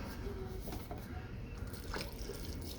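Vegetable broth pours into a pot holding frozen vegetables as part of meal prep. It makes a soft, steady liquid trickle and splash that is faint and close, with light background noise.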